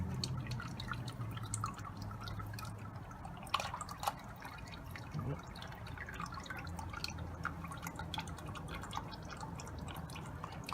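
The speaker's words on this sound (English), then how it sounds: "So we're just going to let that drain out a little bit." Engine oil draining out of a Kawasaki Z900 motorcycle during an oil change, a faint, steady stream of drips and trickling that runs continuously and quietly throughout.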